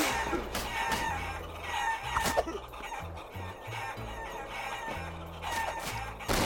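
Chickens cluck and crow in the Guacamelee video game, rhythmic bursts of clucking repeating over game music and ambient sound effects.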